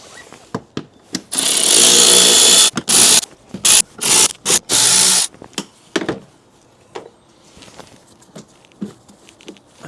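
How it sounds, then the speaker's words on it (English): Ratchet or power tool buzzing and clicking as 8mm bolts are undone on a BMW 118d E87 pollen filter cover, loud close bursts mixed with clicks and rattles, quieter toward the end. "we're going to have to remove the pollen filter, which is this bit on the top. Got 4 8mm bolts."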